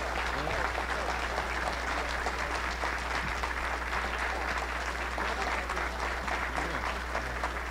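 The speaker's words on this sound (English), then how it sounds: "Let's give them all a big round of applause," Audience applauding a wrestling reunion panel at a live event, a steady round of clapping filling the whole stretch at even intensity, heard from a distance beneath a low constant hum.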